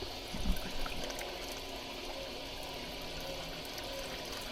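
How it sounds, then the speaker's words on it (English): Water draining through a catch basin: a steady, moderately loud rush of flowing water runs throughout, with a brief gurgling splash near the start and no talk over it. "We've got the water running down there on that end, coming out clear on this end."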